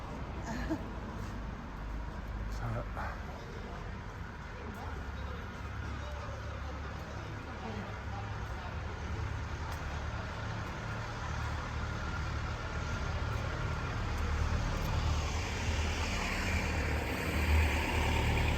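Road traffic passes on a busy street outside Caernarfon Castle in North Wales, with a continuous rumble of engines and idling vehicles, growing slightly louder toward the end, with faint murmurs of people.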